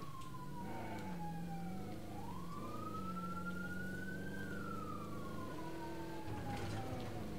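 A wailing police car siren in a video game rises and falls steadily, fairly close, with an engine hum beneath and no talking.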